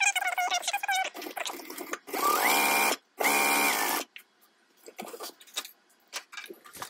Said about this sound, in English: Just stitching it again with an eighth of an inch seam allowance.